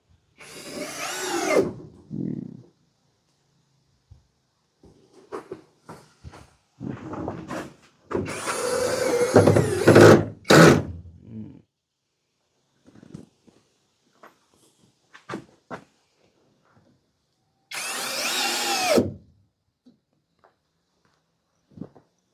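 Cordless battery drill used on wood wall boarding at a house, several short whirring bursts of a second or two each with quiet gaps between them and faint handling knocks, heard close.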